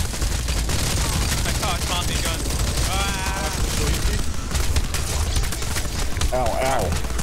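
Tommy gun gunfire in the video game Tower Unite rattles steadily through a dense, noisy game mix, with voices talking over the shooting throughout.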